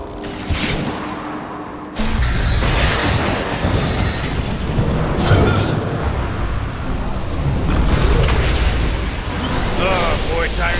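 Dota 2 match audio with heavy low booming impacts and rumbling combat noise as a tower comes under attack, loud and continuous after an abrupt jump in level, with a few high whooshing effects layered on top.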